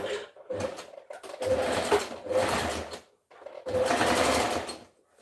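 Sewing machine stitching a dress seam in three loud bursts of rapid whirring with short pauses between, close up and with no talk.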